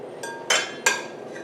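Stirring a sugar scrub of jojoba oil and essential oils in a bowl, with two sharp, close clinks of a utensil against the bowl and a softer third tap, over quiet background.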